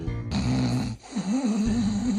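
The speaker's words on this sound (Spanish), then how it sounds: "Pero madre mía, ¿cómo ronca este hombre?" A man snores loudly and close by, with one long rasping, droning breath, a short pause, then another drawn-out snore.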